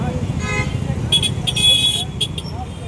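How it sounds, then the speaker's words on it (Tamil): Busy road traffic in Chennai rumbles steadily close by, with several short car horn toots sounding over it in the second half. "டிராஃபிக்கெல்லாம் பார்க்கும்போதே தெரிஞ்சிருக்கும் நாங்கள் சென்னை வந்து ரீச் ஆகிட்டோம்"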